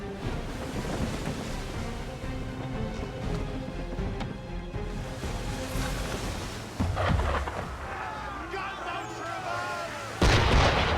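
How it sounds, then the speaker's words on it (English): Cannon fire from an enemy ship in Assassin's Creed III booms out in heavy, rolling blasts over an ambient sea, with a big burst near the end. "Why is he shooting at us?"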